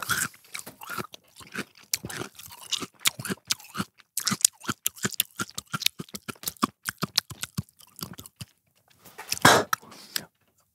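Crunching and chewing of raw stringy celery, close up, with many sharp rhythmic bites and crunches over about ten seconds and a louder burst near the end.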